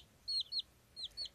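Short, high-pitched clucks from nearby chickens come in two pairs of quick calls separated by a brief pause, with no talking.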